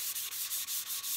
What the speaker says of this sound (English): and give it a little sanding